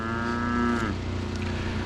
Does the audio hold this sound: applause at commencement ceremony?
no